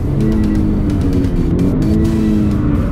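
A car engine under a steady loud drone, its pitch wobbling up and down as the throttle is blipped during heel-toe downshifts under braking, close and continuous.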